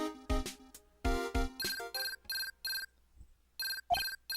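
Handheld transceiver ringing in the Phoenix Wright: Ace Attorney Justice for All video game, a loud electronic ringtone in repeated short melodic bursts with brief gaps, alone and without voices.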